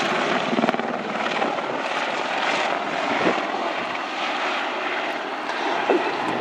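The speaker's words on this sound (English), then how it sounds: "The Apache helicopters are always flying with two pilots" A Royal Netherlands Air Force Apache helicopter flies steadily nearby during an airshow display at RIAT 2013, its rotor chop and engine roar forming a continuous broad rumble with no voices.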